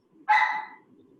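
An excited dog gives a single sharp, close bark that rings briefly, then quiet follows.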